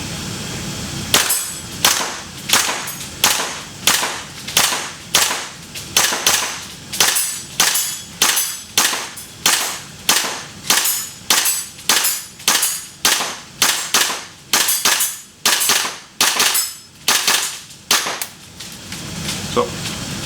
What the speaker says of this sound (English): do another semi run and see how long, basically, how many rounds we could put out through the gun